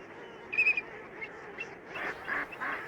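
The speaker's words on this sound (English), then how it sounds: "waterfowl by the thousands gather at staging wetlands" Geese and ducks of a migrating waterfowl flock call at a staging wetland in autumn, a loud honk near the start followed by repeated softer honks and quacks over a steady marsh background.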